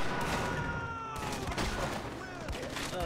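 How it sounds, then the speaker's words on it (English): Rapid gunfire in the video game Far Cry 4, a continuous crackle of overlapping shots and impacts filling the scene at steady loudness. "Getting shot in the back, and we're getting destroyed here."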